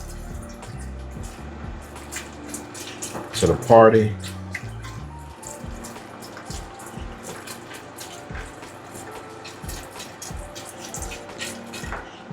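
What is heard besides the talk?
pouring chicken broth into pot of green beans and potatoes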